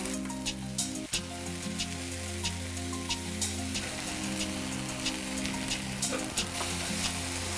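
A sauce of soy sauce and ginger garlic paste fries in a pan, crackling with a dense, rain-like sizzle and scattered sharp pops, while a low steady hum runs underneath and no one speaks.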